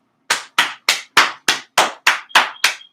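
Nine slow, evenly spaced claps ring out sharply one after another, each crisp and close, with silence between them, like a single person giving a sarcastic round of applause.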